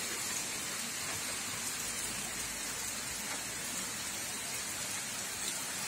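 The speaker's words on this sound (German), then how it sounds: "Hagel und Regen während des Sonnenscheins." Rain mixed with hail falls during sunshine in Vienna, a steady dense hiss of drops striking surfaces throughout, even in loudness with no voices or thunder.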